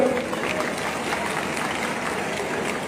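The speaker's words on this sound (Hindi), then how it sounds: "यार सबको खुशी है तो सारे तालियां मारते हैं।" Applause from an audience at an engineering college event, a dense steady wash of many hands clapping that fills the whole moment.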